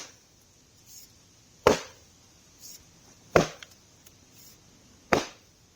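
A mallet drives wedges into a log: three sharp, loud wooden strikes spaced about every second and a half, with softer knocks between them and quiet pauses.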